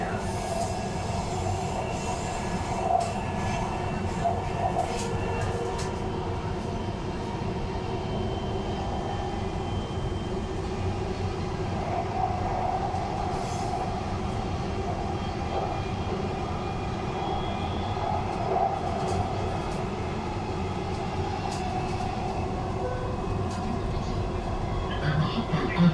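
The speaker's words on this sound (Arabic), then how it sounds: "The final destination of this train is Rashidiyya." A metro train runs on rails with a continuous rumbling roll and a sustained high wheel squeal throughout, heard from inside the carriage at a steady, moderate level.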